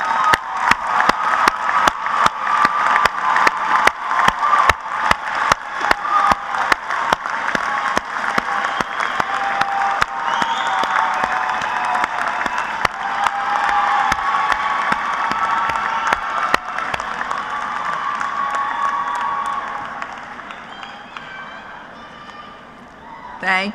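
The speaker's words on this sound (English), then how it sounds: "join me as we applaud their efforts on your behalf" Audience at a law school commencement ceremony breaks into sustained applause with scattered cheers, dense rapid clapping that swells early and slowly thins toward the end.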